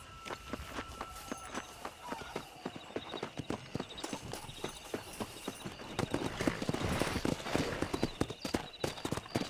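Horses galloping in Red Dead Redemption during a race, a busy stream of hoofbeats clip-clopping quickly and steadily, building louder toward the end, with no talking over it.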